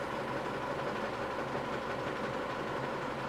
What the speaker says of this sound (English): It needs to be with the engine running, so we'll start the engine.